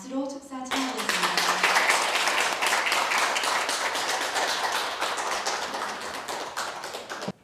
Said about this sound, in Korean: 박수로 축사 청하겠습니다.